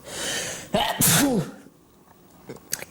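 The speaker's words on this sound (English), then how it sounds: "Sorry about that sneeze." A single loud, close sneeze from one person with a sharp in-breath just before it, followed by a quiet pause in an indoor room.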